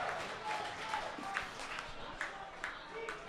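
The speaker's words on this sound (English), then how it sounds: "And the crowd responds." A kickboxing gala crowd at Pier 21 roars and claps in response to a flurry of punches on the ropes, a steady, moderately distant wash of cheering with brief louder swells.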